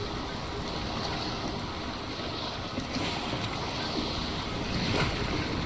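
Steady ocean waves wash and slosh against a sailing boat in the video game Sailwind, a continuous full-band surf with wind noise throughout and no talking.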